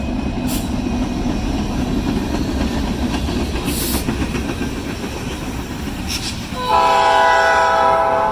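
A Norfolk Southern freight train rolls past outdoors with steady rumbling and wheel clatter, short horn blasts sounding twice, the noise swelling louder near the end as the cars come close.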